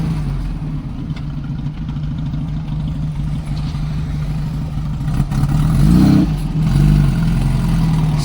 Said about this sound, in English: That's how the car fires.